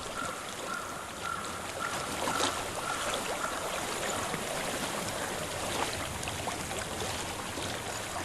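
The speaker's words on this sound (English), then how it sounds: "I hear water." Flowing water in Hellblade: Senua's Sacrifice, a continuous broadband rush and trickle like a stream running nearby, steady and moderately loud without pauses and with no speech over it.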